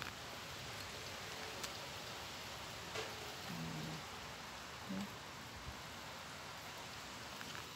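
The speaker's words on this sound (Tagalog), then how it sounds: "Maulan ngayon guys at saka ang lamig." Rain falling outside a window on a cold day, a steady faint hiss of drops heard from indoors, continuous and even throughout with a few soft knocks, no talking.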